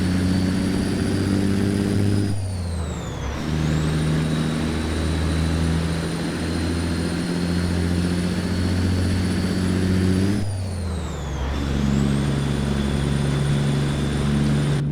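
Freightliner FLB truck in American Truck Simulator pulling away under load. Its engine drones steadily, and twice the pitch drops at a gear change, then climbs back to a strong, even roar.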